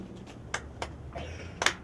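Two sharp hand claps at a house dedication ceremony, separated by a short pause, with faint background noise between them.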